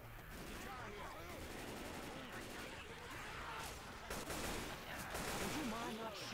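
Gunfire in Left 4 Dead 2 at a rock concert setting, rapid rattling shots under constant game noise and background chatter, fairly quiet overall with voices mixed in.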